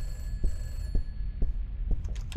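A telephone rings in a dark horror video game, a steady repeating ring layered over low, pulsing thuds about twice a second, with a faint hum beneath and no talking.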